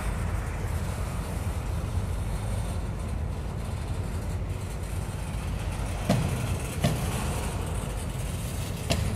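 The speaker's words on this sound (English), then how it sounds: "I got real running train footage here" Steady low rumble of a train rolling past close by at Bethlehem Union Station, with a few sharp metallic clanks near the end and no voices.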